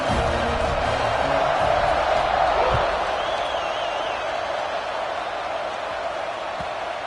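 A stadium crowd in a Madden football video game roars in a steady, dense wash before kickoff, with a brief whistle-like tone rising above it.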